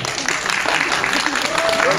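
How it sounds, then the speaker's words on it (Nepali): Audience applause at a Nepali film event fills the room as a dense, steady wash of clapping for the full stretch, with a voice faintly mixed in. "जोरदार ताली तपाईँहरूको तर्फबाट"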